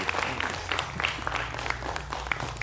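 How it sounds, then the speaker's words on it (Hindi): Audience applause welcoming a speaker onto a stage, a steady dense clatter of many hands with a low hum underneath, fairly close and without talk. "तो जोरदार तालियों के साथ स्वागत कीजिए स्पिरिचुअलिटी के सुपरस्टार अमोघ लीलादास प्रभु जी।"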